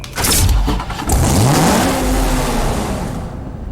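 A 2010 Dodge Viper SRT10 American Club Racer in Need for Speed Hot Pursuit revs hard, its engine note climbing and sweeping upward in a loud, close acceleration that holds and then fades slightly.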